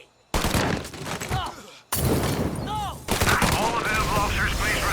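Gunfire in the video game Mafia, a dense, continuous barrage of shots in three loud bursts separated by brief gaps, with whistling ricochets mixed into the clatter.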